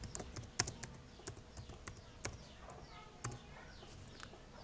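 Keys on a computer keyboard are pressed in quick, irregular taps, faint and close, with a few sharper clicks standing out in a quiet room.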